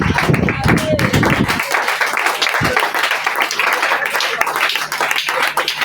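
A church congregation claps and applauds, a dense and loud burst that continues steadily throughout.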